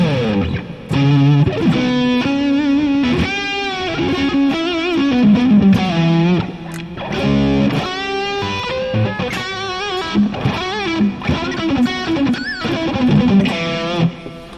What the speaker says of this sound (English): Overdrive, distortion, chorus, delay,